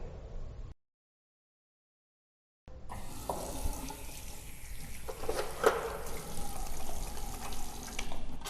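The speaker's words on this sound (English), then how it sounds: "thoroughly washing our hands throughout the school day" A school restroom tap runs steadily into a sink during handwashing, a close, even rush of water that stops briefly near the start and then returns with splashy changes as hands move under the stream.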